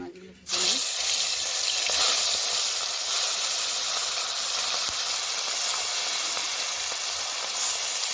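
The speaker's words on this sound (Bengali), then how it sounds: "এইবারে মাছগুলো ভেজে নেব এক এক করে।" Koi fish, climbing perch, drop into hot oil on a clay stove with a sudden loud sizzle that settles into steady, close frying hiss.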